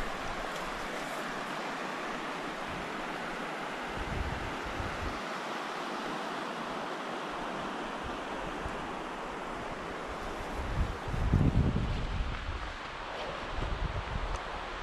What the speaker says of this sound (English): Out here, the North Fork of the Clearwater River.